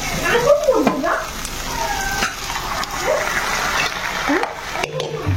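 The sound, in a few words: tadka tempering sizzling in a pan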